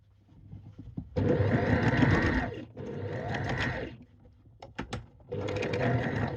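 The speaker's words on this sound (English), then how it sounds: "Sometimes my sewing machine doesn't like me." A sewing machine top stitching trousers runs in three bursts of steady whirring, separated by short pauses with a few clicks and knocks between runs.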